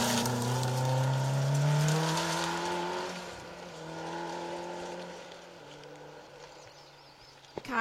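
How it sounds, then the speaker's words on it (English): A Peugeot 306 S16 rally car sweeps past, its engine note rising loud and close then falling away as it drives off into the distance, with a brief sharp knock near the end. "Car 85, Will Armitage and Jeremy Paul in that Peugeot 306 S16"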